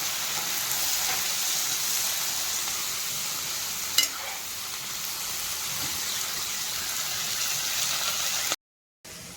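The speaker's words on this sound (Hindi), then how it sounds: "ये देखिए मैंने मिर्ची को अच्छे से ऑयल में, इसको मिर्ची को फ्राई कर रही हूँ" Chillies frying in oil give a steady, dense sizzle with faint crackles, close and constant, with no voices, before a brief cut to silence near the end.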